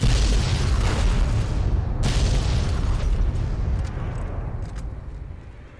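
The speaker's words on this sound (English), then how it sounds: "So explode this guy." An explosion goes off in the video game Fallout New Vegas, a loud, broad boom that rumbles on for several seconds and slowly fades, with a second sharp burst partway through.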